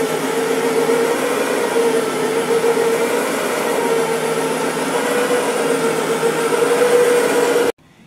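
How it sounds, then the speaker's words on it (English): Brush Pro carpet cleaning machine with two counter-rotating brushes, run for dry soil removal on rugs: a loud, steady motor whir with a constant tonal hum, nearby and alone, cutting off abruptly at the end. "You can use our Brush Pro for dry soil removal. It's got two counter-rotating brushes"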